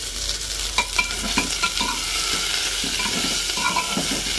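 Onions fry in a pan with a steady, close sizzle, broken by repeated scraping and clinking as a spoon stirs them, with no talk.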